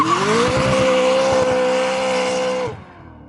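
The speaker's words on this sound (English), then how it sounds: "I've scumbagged him into doing one more burnout for you guys" A McLaren 600LT roars through a rolling burnout, its engine holding a loud steady pitch while the tires squeal continuously, close by, before the sound cuts off abruptly.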